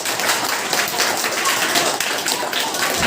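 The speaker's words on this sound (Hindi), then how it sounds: "जोरदार तालियां बजाओ।" Children at a school Saturday assembly clap loudly for their mothers, a dense, sustained crowd applause of many small hands that carries on evenly throughout.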